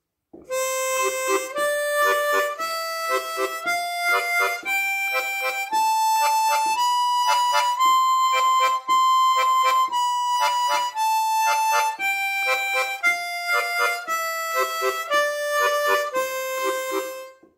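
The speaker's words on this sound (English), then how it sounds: "you play it tongue slaps on 2 and." Harmonica played with tongue slaps on beats two and, a steady rhythmic run of bright reedy notes stepping up and back down in pitch, close and loud with no talking.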